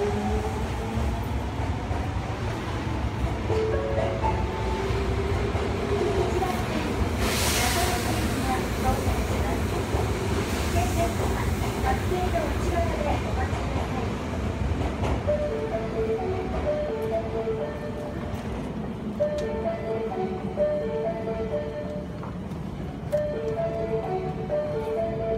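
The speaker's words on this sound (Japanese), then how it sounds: "1番線に電車が到着いたします。" A Midosuji Line subway train at Umeda station during weekday morning rush hour, with continuous rumbling and rail noise under station hubbub, while a station announcement plays over a loudspeaker.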